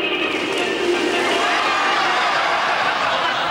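A big crowd roars and cheers steadily at a synchronised swimming routine, a dense, continuous wash of excited voices with scattered chuckles mixed in.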